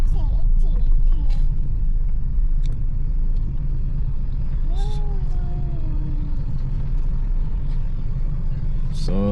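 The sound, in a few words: car pulling in to park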